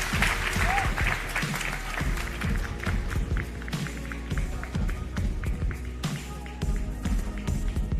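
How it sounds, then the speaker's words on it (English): Conference audience at Solana Breakpoint 2023 clapping for three panelists, scattered moderately near applause with distinct individual claps and some background voices, fairly quiet overall. "please give a big round of applause to our three panelists."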